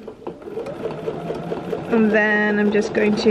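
A sewing machine stitches small circles on a quilt along a ruler, its rapid mechanical whir starting softly under a person talking, then running louder and steadier near the end.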